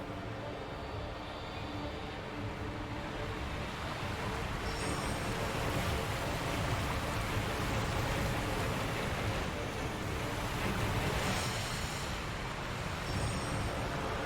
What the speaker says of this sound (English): Noise of the roaring waterfall is deafening.